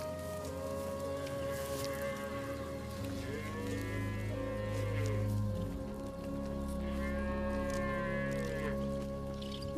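Grey Steppe (Boz) cattle lowing, with long, drawn-out moos rising and falling over a steady, noisy outdoor background, loud and fairly close.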